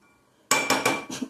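A spoon clinks and scrapes against a pan while stirring Udupi-style green peas upma, giving four quick, close metallic knocks after a quiet start.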